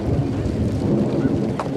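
A storm front moves in with heavy rain and low rumbling thunder, loud and continuous throughout, with no voices.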